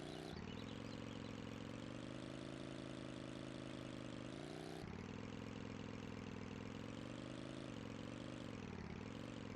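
A vehicle engine in the River Ganges level of Tomb Raider 3 drones at a steady mid pitch, with a brief dip and shift partway through and no distinct tyre squeal, constant and unbroken throughout.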